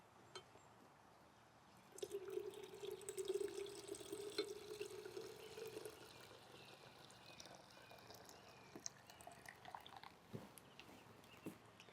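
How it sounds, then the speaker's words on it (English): Six cups of water poured into a pitcher with sugar, a gurgling stream that swells after two seconds and then tapers into scattered drips and light clinks, close and with no talk. "we're gonna add 6 cups of water to our pitcher"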